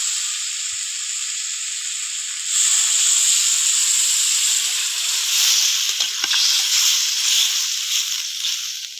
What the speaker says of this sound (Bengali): সবজি কষিয়ে নিয়েছি, এবার আমি জল দিয়ে দেবো।